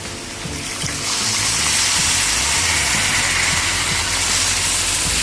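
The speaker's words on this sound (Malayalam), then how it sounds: "കുറച്ച് വെള്ളം ഒഴിക്കട്ടോ." A steady, loud hiss and sizzle rises as water hits a hot pan of varaal fish roast, with a low rumbling boil underneath throughout.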